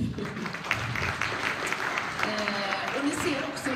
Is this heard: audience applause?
yes